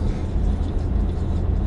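A car drives along a mountain road with a continuous low rumble of engine and tires, steady and fairly close, with no talk.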